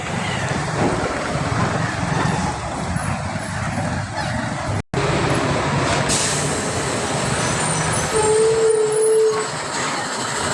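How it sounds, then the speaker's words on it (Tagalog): Trucks pass steadily along a dusty road in a roadwork area, a continuous near rumble of heavy engines with a brief horn-like tone late on. "Ayan yung mga truck na dumadaan dito."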